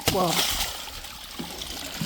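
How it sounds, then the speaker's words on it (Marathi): Water gushing strongly from a pipe on a farm, a broad, rushing hiss heard up close beneath a man's brief speech. "पाणी खूप मारत आहे"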